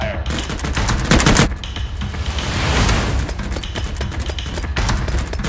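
Sci-fi weapon fire in an animated series, dense rapid bursts of shots layered over a rumbling background, with a sharper crackling volley early on and continuous loud battle noise throughout.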